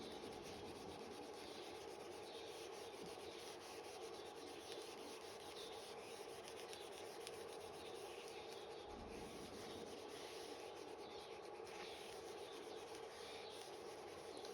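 A board is rubbed clean during a lecture: a faint, continuous close-up rubbing and swishing that carries on with only a brief pause.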